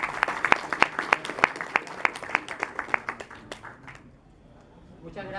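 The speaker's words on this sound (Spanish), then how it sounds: "También lo recibimos con fuertes aplausos." A small audience at a debate event gives a speaker a welcome with a run of sharp, distinct claps that thin out and stop, followed by a voice beginning to talk.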